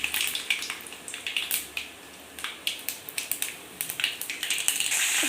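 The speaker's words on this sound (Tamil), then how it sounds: "தாளிப்பு போட்டுக்கலாங்க." Spices for a chutney tempering splutter in hot oil, a run of quick, sharp crackling pops repeating at close range with no talk.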